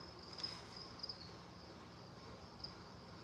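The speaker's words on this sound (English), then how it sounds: "All the crickets are starting quiet now." Crickets chirping at night, a steady faint high trill with a few brief sharper chirps, continuous and distant with no talking.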